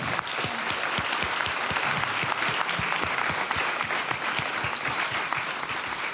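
An audience at a talk on politics and strategy claps steadily, the dense applause holding at an even level throughout.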